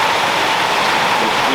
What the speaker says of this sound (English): raining at the moment, as you can hear